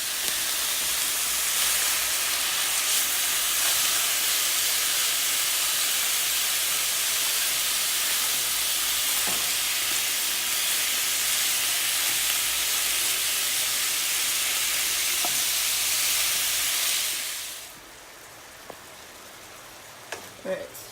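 Onion and ground meat frying in a pot for stuffed red pepper soup, giving a loud, steady broadband sizzle that continues for most of the clip, then cuts off abruptly, leaving faint clicks and quiet room noise.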